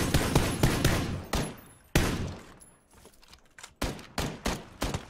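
Gunfire in the game PUBG, heard as rapid bursts of sharp shots, a cluster at the start and more bursts later, with a quieter gap in between, fairly loud and near.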